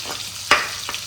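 Finely chopped garlic sizzles in garlic-herb butter in a pan, a close, steady frying hiss with a sharp spatter near the middle and a smaller pop just after.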